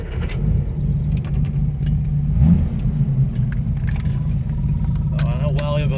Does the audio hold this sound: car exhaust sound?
yes